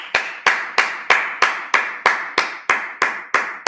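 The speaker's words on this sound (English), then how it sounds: "Yeah, clap it up." A congregation at a Sabbath service claps in a steady, evenly spaced beat, about eleven loud, crisp claps in under four seconds, with no voices over them.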